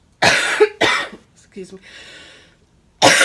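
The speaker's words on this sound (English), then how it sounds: "I have to leave the cough in so you know I'm not lying to you." A person speaks, then gives a couple of rough, close coughs and clears their throat before talking resumes.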